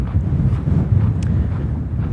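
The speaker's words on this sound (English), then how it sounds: "Oh, the wind is picking up." Outdoor wind buffeting a microphone at Chaco Culture National Historical Park in New Mexico, a steady loud low rumble with gusty fluctuations, no talking.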